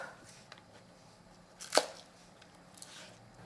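A kitchen knife slices green onions very thinly on a cutting board, one sharp quiet cut landing midway through an otherwise hushed stretch.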